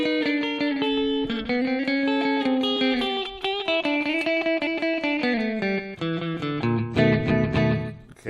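Electric guitar plays a twangy honky-tonk lick, clear picked notes with bends and slides over about eight seconds, close and steady in volume with no voices.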